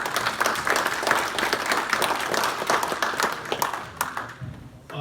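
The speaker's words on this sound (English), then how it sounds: "Let's have a warm round of applause for Jason." An audience at an America First gathering in Hillsdale, Michigan gives a congressional candidate a warm round of applause, thick and steady clapping that thins into scattered individual claps near the end as it dies away.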